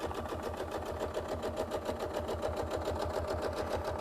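A sewing machine stitches a quilt in free-motion stippling, with a fast, even mechanical rhythm of needle strokes running steadily and fairly close.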